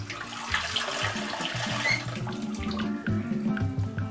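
Water is poured into a blender holding chopped garlic, onion and ginger for peanut soup seasoning. A close, continuous gushing splash runs for several seconds with no speech.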